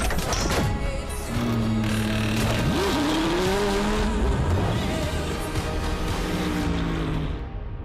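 GT race cars at full speed during a GT World Challenge Australia race at Hampton Downs, engines howling continuously with pitch sweeps as cars accelerate and shift, mixed with crowd and circuit noise.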